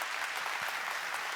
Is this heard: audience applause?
yes